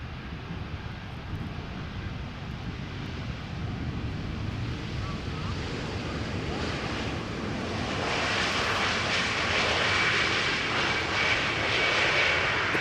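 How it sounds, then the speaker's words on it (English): A Sky Express Airbus A320neo jet arriving from Zakynthos at Amsterdam Schiphol, its engine noise building from a distant rumble to a louder, brighter roar toward the end, with light wind noise throughout. "Sky Express A320 Neo arriving from Zakynthos."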